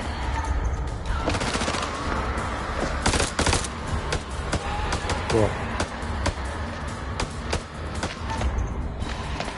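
Rapid gunfire in the horror game House of Ashes, a dense run of sharp shots and bursts crackling over background game sounds, with voices talking over it.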